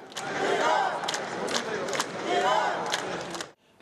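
Iranian fans cheering at a world wrestling championship hall in Nur-Sultan, loud rhythmic crowd chanting and shouting in repeated bursts with sharp claps, fading out abruptly at the end.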